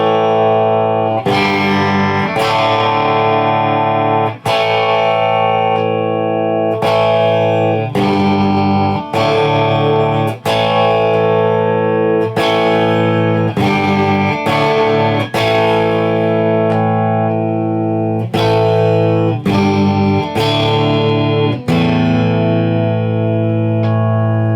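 Squier Sonic electric guitar on its bridge pickup with the volume rolled to halfway and both tones full up, strummed chords ringing out in a steady series of sustained, bright hits, loud and alone without talk.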